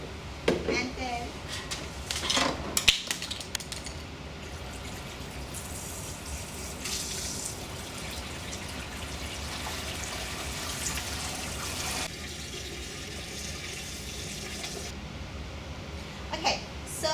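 Salt solution pours and gushes into a lab tank, a continuous watery rush with splashy bursts near the start, while people talk over it.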